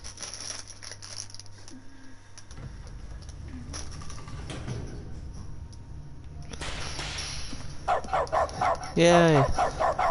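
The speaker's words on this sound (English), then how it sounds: "Oh, let me bark." A dog in The Stanley Parable barks in a few short, loud yaps near the end, after a stretch of quieter ambience and shuffling.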